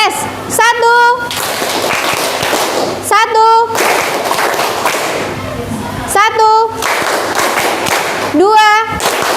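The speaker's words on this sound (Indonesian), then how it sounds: "Kita tepuk 1 2 3, masih ingat?" A classroom of children clapping together in a counted 1-2-3 pattern, loud bursts of claps repeating every few seconds, with voices heard between the rounds.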